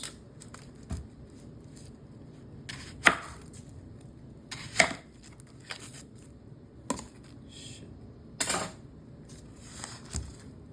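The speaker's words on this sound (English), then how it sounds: "So I'm cutting up the jalapenos. And then the onions." A knife chops jalapenos and then onions on a cutting board for a salmon dinner, with sharp, irregular thuds spaced a second or two apart, close and fairly clear, with no talking.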